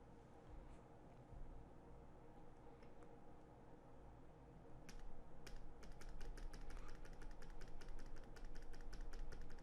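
Keys are tapped on a computer keyboard during math work, starting with sparse quiet taps and then a fast, steady run of close keystrokes over a low background hum.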